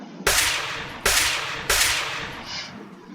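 Three loud gunshot sound effects fire in a Unity game test, evenly spaced with a decaying tail after each, followed by a faint short tone and a sudden cutoff.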